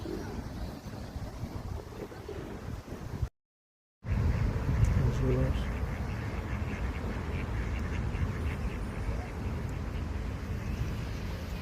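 Ducks quack intermittently amid gusty wind and outdoor noise, with geese nearby and a person talking, and a brief silent gap early on.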